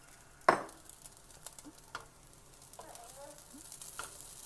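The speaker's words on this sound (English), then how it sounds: "Just going to stir fry this for another minute" Chicken fried rice with shredded coriander is stir-fried in a pan, a low steady sizzle broken by a sharp clang of a utensil and a few light scrapes, close by with a faint voice.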